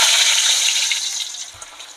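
Cut potatoes hit hot oil in a pan, giving a bright, hissing sizzle that starts strong and gradually fades over two seconds, close and alone.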